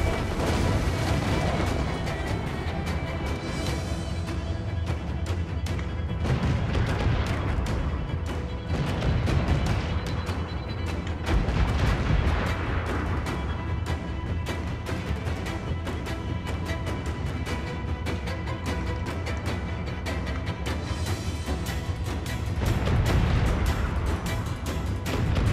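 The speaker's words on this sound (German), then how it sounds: "Mit dieser Breitseite! Feuer!" Ship broadside cannon fire in the video game Assassin's Creed 4 Black Flag, with repeated heavy booms and rumbling blasts over a dense, continuous battle din lasting throughout.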